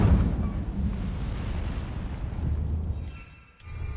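The Incendio fire spell in Hogwarts Legacy erupts as a loud roaring, rumbling blast of flame that sustains and fades over several seconds before a sharp new sound cuts in.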